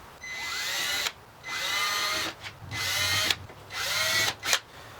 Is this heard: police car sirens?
no